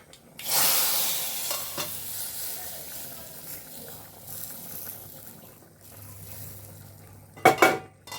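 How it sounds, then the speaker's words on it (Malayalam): Mustard seeds sizzle and crackle in hot butter for a tempering, a steady frying hiss with faint pan clinks and a sharper burst of pops near the end, up close and without talk. "മറ്റേ വെണ്ണയ്ക്ക് കുറച്ച് കടുക് ഇട്ട് കൊടുക്കുന്നുണ്ട്"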